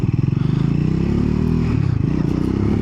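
Triumph Scrambler 400X motorcycle accelerating, a loud close engine with a throbbing pulsing rhythm, engine note rising and dipping briefly as it pulls harder, alone without talk.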